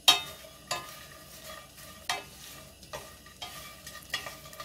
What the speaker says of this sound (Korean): 이렇게 기름으로 코팅을 해주시면 됩니다